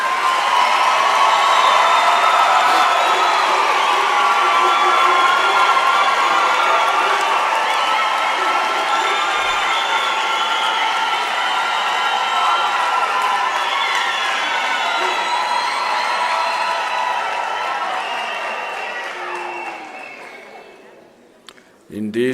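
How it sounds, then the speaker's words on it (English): A large crowd at a University of South Africa autumn graduation ceremony cheers and applauds the graduates. Loud, sustained clapping is mixed with ringing voices and ululation-like cries, holding strong for about twenty seconds before tapering off. "let us give the graduates a thunderous round of applause"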